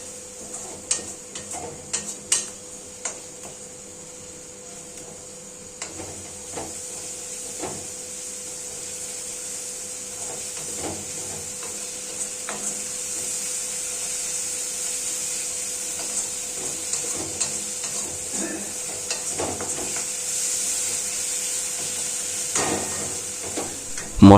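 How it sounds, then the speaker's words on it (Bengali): Spice masala being sautéed in a pan for an egg curry with curry leaves, a low steady sizzle with scattered stirring scrapes and ticks, close and fairly quiet, no talking. "সমস্ত উপকরণ খুব ভালোভাবে কষতে থাকবো।"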